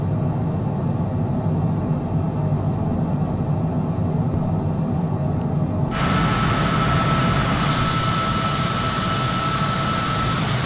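Airplane engine roaring at liftoff in Microsoft Flight Simulator, a steady loud broadband drone that holds throughout and brightens partway through as the power rises, with no voices.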